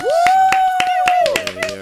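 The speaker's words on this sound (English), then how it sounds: "Can I get a round of applause?" A few hands clap in a loose, steady rhythm at a podcast recording, with a sustained voice whooping over the first half and quieter sounds after.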